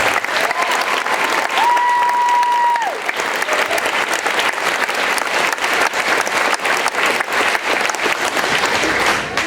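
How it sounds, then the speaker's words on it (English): Audience at a 2017 high school and middle school spring vocal concert claps steadily and loudly throughout, dense sustained applause with a brief voice or tone audible early on. "Could you please give them a round of applause?"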